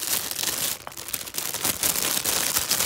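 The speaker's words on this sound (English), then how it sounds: "the plastic noise on camera gets amplified by a stupidly amount" Plastic packaging of vintage-style Christmas hanging decorations crinkling and rustling close up, a continuous crackly scrunching with brief louder crackles throughout.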